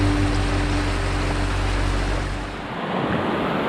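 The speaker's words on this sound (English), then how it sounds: "the sound from this water stream is really loud" A loud, fast-flowing alpine river stream in a forested mountain valley gorge, its dense, steady rush of water filling the scene, with a brief dip in intensity near the end before the roar returns.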